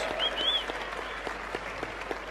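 Convention audience at MCM London Comic Con applauding a Mass Effect panel, a steady wash of many hands clapping close and loud, with a brief high whistle-like tone near the start.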